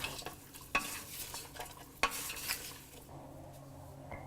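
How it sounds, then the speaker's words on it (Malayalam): A spoon scrapes and stirs mutton pieces coated with pepper powder, meat masala, curry leaves and salt in a pan, with quiet clinks and a soft sizzle, including two sharper knocks against the metal. "മിക്സ് ചെയ്യുക."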